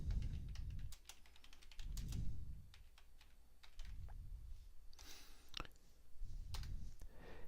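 Quick, uneven keyboard typing clicks away near the microphone, with bursts of keystrokes over a low rumbling background that swells and fades.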